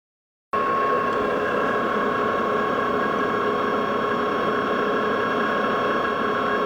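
A metal lathe turning a steel feed roller, a steady mechanical whir and gear hum that starts abruptly and runs on evenly and fairly loud, with no talking over it.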